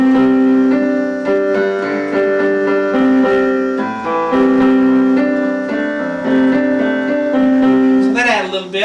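Piano chords played with a steady melody on top and lower bass notes filling in underneath, sustained and fairly loud throughout, no voices.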